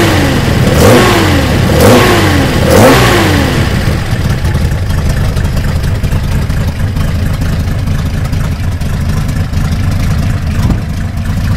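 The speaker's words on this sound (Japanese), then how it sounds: "キャブの吸い込み音もお願いします" A Nissan F30 Leopard with mechanical tuning and Weber 45 carburetors blips its engine three times in quick succession, each with a sharp intake roar, then settles into a steady, lumpy idle, loud and close, with no talk.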